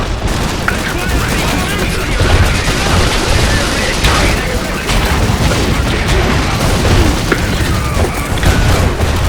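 Dense battlefield gunfire and artillery booms from the mech war game Iron Harvest, a loud continuous roar of shots and explosions with voices calling out under it.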